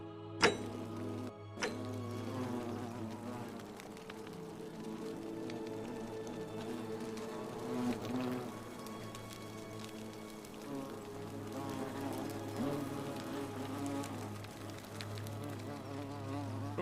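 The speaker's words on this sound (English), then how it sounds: "The wasp nest in here." Wasps swarm around a nest in The Forgotten City, a low, steady buzzing drone that holds throughout, with a couple of sharp clicks at the start.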